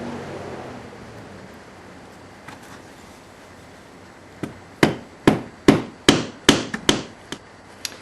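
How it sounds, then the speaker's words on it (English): Sharp chisel strikes squaring up a wooden board set on another board, about nine loud, close knocks in a quick, even series, each with a brief woody ring, after a quiet stretch with one or two lighter taps. "I'll just try to square it up with a chisel."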